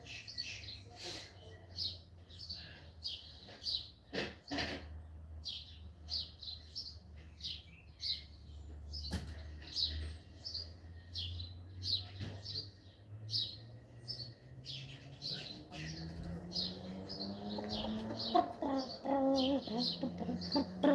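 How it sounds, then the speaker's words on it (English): Pet birds indoors chirp and tweet in rapid repeated bursts throughout, fairly close, over a low household hum, with louder rustling and clattering building toward the end near supper time. "I haven't given my birds their supper yet."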